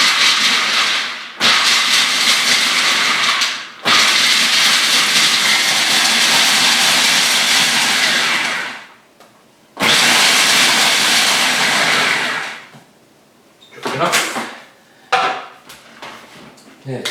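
A food processor chops walnuts and almonds for a vegan apple strudel in several loud bursts with short pauses between them, whirring and rattling, then a few fainter clatters at the end.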